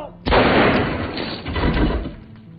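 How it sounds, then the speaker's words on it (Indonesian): A loud, sharp pistol gunshot bursts in, followed by a long, rumbling roar that fades slowly. "mengambil pistol terus menembakkan"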